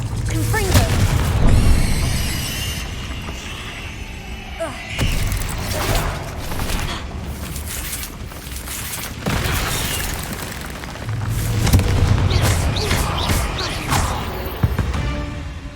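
Repeated Confringo fire-spell blasts in the Hogwarts Legacy video game, heavy booming bursts spaced every few seconds over game music and ambience, with a voice calling out spell names between them.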